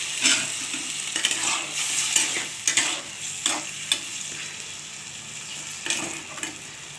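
Pointed gourd cooks in a pan with a little water added, giving a steady sizzle broken by repeated stirring scrapes and clinks of a spatula, close and fairly loud, with no speech.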